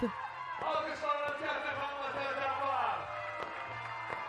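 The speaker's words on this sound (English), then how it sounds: "Heard a lot of cheers from the crowd." Arena crowd cheering and applauding for Team Spain after winning the FIBA 3x3 Women's Series stop in Baku, Azerbaijan, a steady roar of many voices filling the space, with talk over it.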